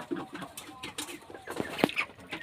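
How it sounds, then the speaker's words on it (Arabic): Hens in a backyard flock of white chickens give a few short clucks and squawks at close range, with one louder sharp call near the end. "بصوا يا جماعة الفراخ عاملة ازاي"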